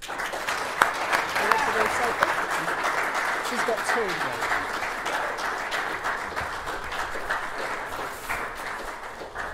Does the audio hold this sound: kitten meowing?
no